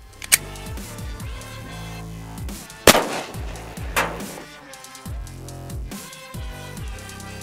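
A single sharp, loud gunshot from a Glock 29 10mm with its shorter barrel, fired into ballistic gel blocks, followed by a lingering outdoor rumble and a softer second bang.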